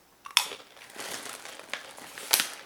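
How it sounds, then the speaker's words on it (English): A toddler snack bitten into during a taste test, giving two sharp, close crunches about two seconds apart with quieter crinkly chewing between them. "But I just taste one, as you can tell by the crunch sound, and it wasn't bad."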